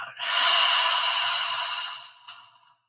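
A single long, slow breath drawn in and released alone, soft and airy, swelling then fading over a few seconds with a faint catch near the end, in a quiet meditative setting.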